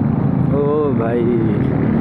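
A Royal Enfield Continental motorcycle's exhaust drones steadily on a morning road ride, a continuous low engine rumble with a voice talking over it briefly.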